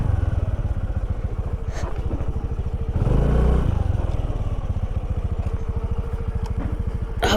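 Motor scooter ridden along a narrow village road, its engine a steady close putter throughout with a brief louder, rougher surge around the middle; no voices.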